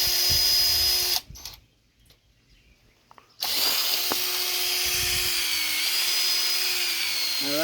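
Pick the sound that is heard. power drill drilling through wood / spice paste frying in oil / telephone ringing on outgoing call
power drill drilling through wood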